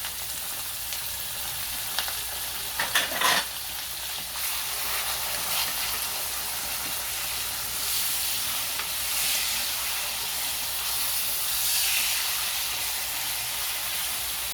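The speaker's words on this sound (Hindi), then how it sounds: "कीमा डालेंगे और इसको अच्छे से भून लेंगे हम।" Minced meat (keema) frying with browned onions in a pan, a steady dense sizzle and hiss with occasional stirring scrapes and crackles, close and continuous, with no one speaking.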